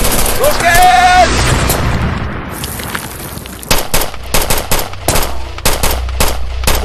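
A battle scene from a Turkish war drama, opening with a loud rocket launch whoosh and roar, then rapid bursts of close gunfire and booms, with a shouted voice near the start.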